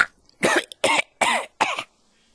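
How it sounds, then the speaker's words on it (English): A series of four harsh, wet hacking bursts in quick succession, loud and close, like a cat retching to bring up a hairball. "she coughs up a hairball in her owner's bed"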